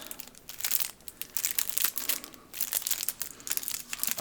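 Card packs torn open and unwrapped at an unboxing of a Robinson Crusoe collector's edition game, with close, rapid crinkling and crunching of plastic wrap in repeated bursts, no talking.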